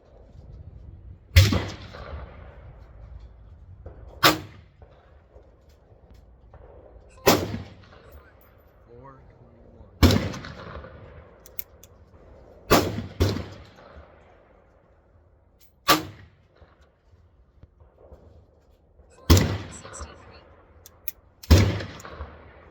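.38 Special test loads fire from a Cattleman revolver, about eight sharp, loud single shots spaced a few seconds apart outdoors, each followed by a rolling echo, with quiet talk between some shots.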